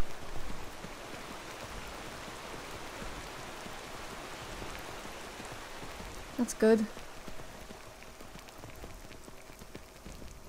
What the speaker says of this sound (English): Thankfully, the rain here is warm.